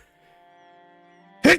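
A single sharp human sneeze bursts out loud and close at the very end, after a stretch of quiet low hum.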